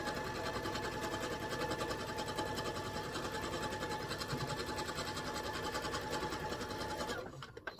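A sewing machine stitching a Halloween quilt panel runs in a steady, fast, close mechanical whir and clatter, unbroken until it stops abruptly near the end.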